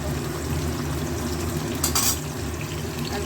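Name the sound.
paneer frying in oil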